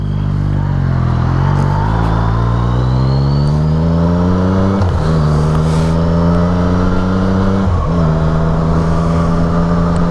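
A motorcycle pulls away and rides off, its engine revving up through several rising gear pulls with brief dips at each shift, loud and close throughout with no talk.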